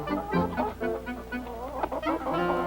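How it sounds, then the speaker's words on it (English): Chickens cluck and a rooster calls amid a busy farmyard, several birds overlapping in a continuous noisy chatter. "he decided to get into a crowing match with our rooster"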